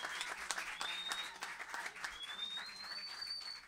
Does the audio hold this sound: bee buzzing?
no